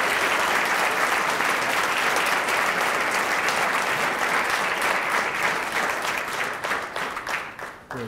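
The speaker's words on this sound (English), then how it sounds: "Give another round of applause to Mr. Davis" Sustained audience applause for Bob Evans CEO Steven A. Davis at a 2013 recognition ceremony, a full, dense wash of clapping that holds steady for several seconds, then thins and fades out at the end.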